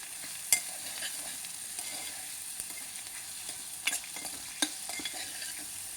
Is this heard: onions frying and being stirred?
yes